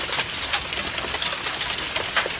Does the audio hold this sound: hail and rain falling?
yes